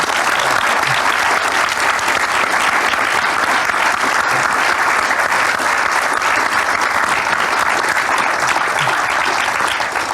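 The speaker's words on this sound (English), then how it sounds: "Let's give them a Thank large you. round of applause, please." Sustained audience applause at a BAFTA storytelling event, dense and loud, a steady wash of many hands clapping with no pause for the whole stretch.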